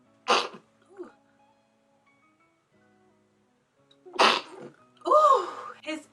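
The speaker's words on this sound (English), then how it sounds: "I keep sneezing." Two sharp sneezes from a person, the first right at the start and the second about four seconds later, followed by a brief vocal sound and a bit of talking.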